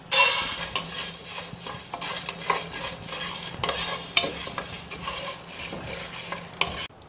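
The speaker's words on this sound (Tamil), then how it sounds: "இந்த பருப்பு வந்து இந்த சிவப்புக்க நல்லா வறுத்தாச்சுங்க" Chana dal being dry-roasted in a pan for sambar powder, stirred continuously with a spoon, giving close, loud rattling scrapes and a dry sizzling hiss in an uneven rhythm throughout.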